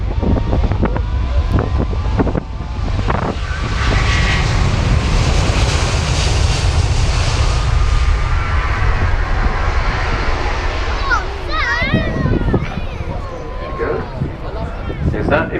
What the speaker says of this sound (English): The Airbus A380.